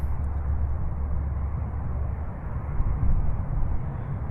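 Hangar 9 P-47 Thunderbolt RC airplane on landing approach, a steady engine drone with a faint high whine that holds at a constant distance and swells slightly toward the end.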